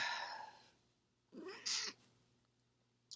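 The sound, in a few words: cat meowing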